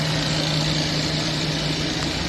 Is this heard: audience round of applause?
no